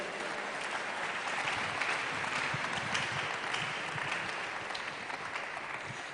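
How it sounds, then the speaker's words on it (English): Sustained audience applause at a business road show session in Kumasi, a steady, dense wash of clapping from a large crowd that holds at an even level for several seconds. "Give them a big round of applause once again."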